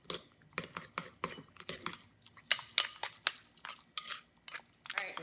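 A utensil stirs honey sriracha sauce with green onions and pepper in a bowl, giving a quick series of close, light clinks and scrapes at an irregular rhythm.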